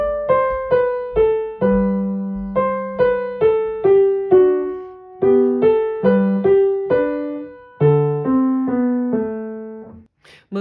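Solo piano playing Bach's Minuet in G (BWV Anh. 1), with short, detached bass notes under a smooth, connected melody, played at a moderate, steady pace with no voices.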